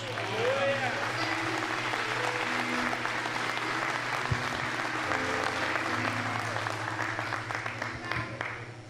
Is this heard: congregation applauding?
yes